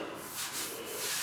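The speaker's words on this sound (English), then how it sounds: "So I've got to do a little bit of wet sanding" Close, soft rhythmic rubbing and hissing strokes of wet sanding primer on a 1985 Chevy K10 pickup bed, a few back-and-forth passes, fairly quiet.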